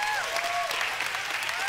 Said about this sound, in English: Give yourself a round of applause coming out tonight.